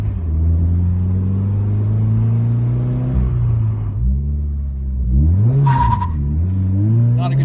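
A 2017 Toyota 86 accelerates hard through the gears: loud, close engine revs climb steadily, drop briefly at each shift, then rise again.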